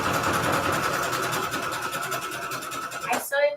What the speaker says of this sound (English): My sewing machine still works.